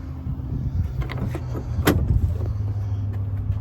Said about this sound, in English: Power windows, power locks.